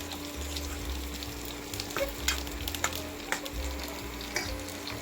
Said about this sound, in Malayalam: നന്നായിട്ടൊന്ന് ഇളക്കി എല്ലാം കൂടി ഒന്ന് യോജിപ്പിച്ചെടുക്കുക